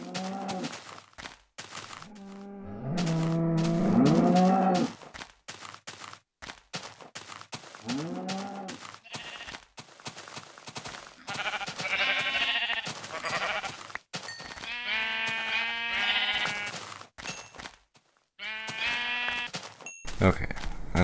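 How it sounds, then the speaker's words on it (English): Sheep bleating in a video game while gathering sheep, repeated loud bleats in several bursts, sometimes overlapping, with someone talking in between. "a lot of sheep."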